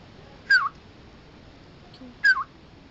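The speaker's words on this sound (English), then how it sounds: "The one which would call like this is called black hooded oriole." Black-hooded oriole, a yellow bird with a black head, calls in a forest: two short, clear, fluty phrases about two seconds apart, fairly near against a faint hiss of background.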